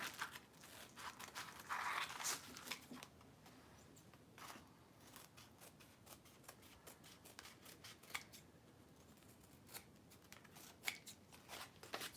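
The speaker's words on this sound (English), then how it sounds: "So I'm just going to hold this and cut this foam." Scissors snip through craft foam for an Easter hat, a quiet, close run of irregular crisp cuts and rustles, louder early on and sparse later, with no talking.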